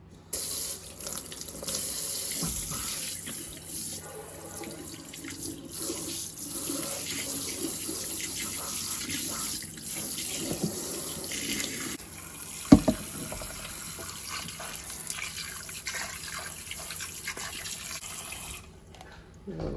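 Vegetables for a pot roast rinsed under a running kitchen tap, a steady close hiss of water into the sink with shifting splashes as they are turned, ending abruptly.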